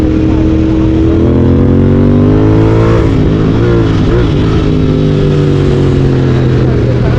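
Royal Enfield Continental GT 650 motorcycle fitted with a Red Rooster exhaust, heard onboard as a loud, close, continuous engine drone whose pitch rises and dips slightly as revs change, with faint talk underneath.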